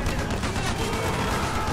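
Rapid machine gun fire in Call of Duty: Black Ops on the Vorkuta map, a dense continuous burst of shots layered with background battle noise.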